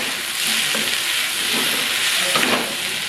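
Paneer cubes fry among vegetables in a pan, a steady close sizzle with scraping stirs and a few louder spatula strokes, no voices.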